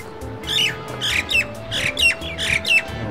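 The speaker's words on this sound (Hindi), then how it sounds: "तो मैना बैठी हुई है" Myna bird perched at a pigeon loft, giving a run of five or six harsh squawking calls close by in quick succession, over a faint background hum.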